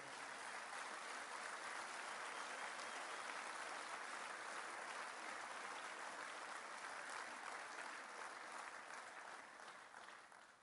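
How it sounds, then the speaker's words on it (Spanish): A large audience applauds, dense and sustained clapping that stays loud and even for about ten seconds before starting to taper off at the end. "Quiero pedirle un fuerte aplauso a todas las madres que han tomado una decisión como esa."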